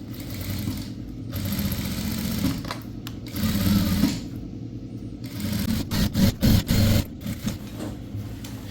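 A sewing machine stitches a seam on a box pleated school uniform skirt, its loud whirring motor running in several bursts, with quick stop-and-start stitching toward the end, close and alone.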